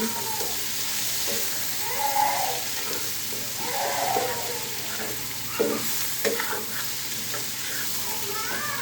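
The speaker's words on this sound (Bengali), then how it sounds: "এখন নেড়ে চেড়ে মিক্স করে দিচ্ছি।" Chicken and coriander leaves are stirred together in a pan for chicken chop, steady frying hiss with repeated scraping strokes of a spatula and occasional louder knocks against the pan.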